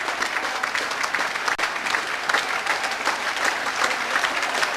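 The home crowd at Home Park applauds Plymouth Argyle players after a win over Gillingham in the 1996/97 season. The broad, continuous stadium clapping is steady and unbroken, with a distant, roomy wash.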